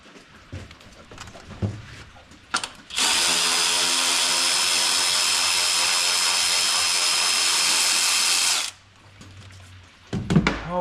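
A power tool runs continuously for about six seconds, a loud steady high whine, spinning out cylinder head bolts on a GM Sierra/Silverado engine with lifter failure; quiet shop clatter comes before and after.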